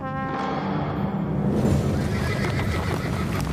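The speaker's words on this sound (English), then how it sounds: "The Britons attacked from chariots, pulled by small, swift horses." Horses neigh loudly with a long whinny, then a dense rush of galloping hooves and clatter takes over, close and full, suggesting small, swift horses pulling chariots in an ancient battle charge.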